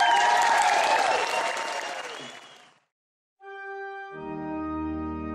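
Audience applause for a tribute act at a festival in Parkes, a dense crowd clapping that fades out over about three seconds into silence before sustained musical tones begin.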